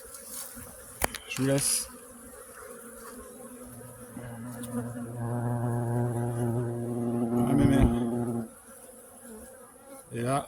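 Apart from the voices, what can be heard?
bees buzzing at an apiary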